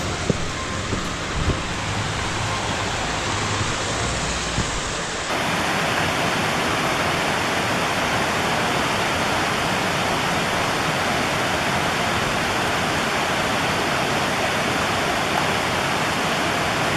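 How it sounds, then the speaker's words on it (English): A mountain creek rushes beside a trail on Mt Lindsey's northwest ridge route. It is a constant, loud roar of white water that grows fuller and louder after about five seconds and continues unbroken. "Still up here, paralleling the creek."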